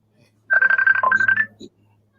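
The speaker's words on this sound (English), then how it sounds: "ringing me in Messenger and I'm in live show" A Messenger call ringtone chirps in a quick run of short electronic tones for about a second, then one last blip, loud and close against a quiet background.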